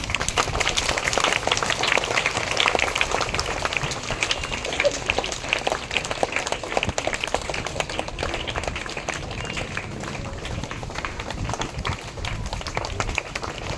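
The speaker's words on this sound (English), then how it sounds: "Give them huge round of applause." Audience at a school assembly applauding young nursery and kindergarten students, a dense, continuous wash of many hands clapping at steady loudness throughout.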